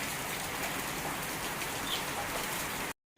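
Steady monsoon rain pours outdoors in a dense, even hiss that holds at one level, then cuts off abruptly near the end.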